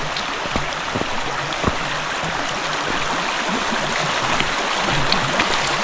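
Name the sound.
splashing through water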